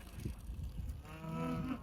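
A cow lows once on a farm where cows without calves are kept, a drawn-out moo rising over faint background murmur and clatter, fairly distant and soft.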